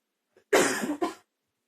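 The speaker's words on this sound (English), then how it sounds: "Apologise for coughing" A single person coughs twice, close and sharp, after a faint brief breath, then silence, in a damp rented property.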